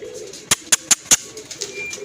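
A young pigeon near a loft gives four sharp, evenly spaced wing claps or flutters in quick succession over soft background cooing, close and fairly loud.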